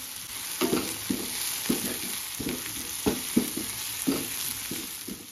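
Chopped tomato and carrot fry in a pan, giving a steady sizzle broken by repeated spatula knocks and scrapes at an uneven pace. No one speaks.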